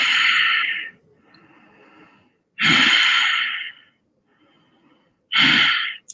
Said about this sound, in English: Take 3 deep breaths.